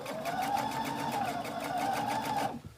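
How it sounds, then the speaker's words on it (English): A sewing machine stitches a quilt in one steady, continuous run at moderate volume, stopping abruptly near the end. "So we're just going to keep sewing"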